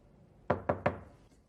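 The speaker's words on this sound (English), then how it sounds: "She knocked" Three quick, sharp knocks on a closed office door, evenly spaced and close by, with quiet before and after.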